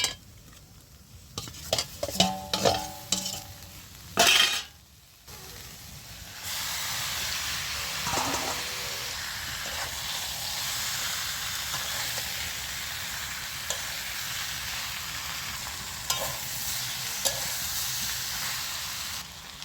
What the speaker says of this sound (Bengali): এবার আমি ভেজে রাখা আলু আর চিচিঙ্গাটা দিয়ে দিচ্ছি।